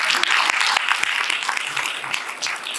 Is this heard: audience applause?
yes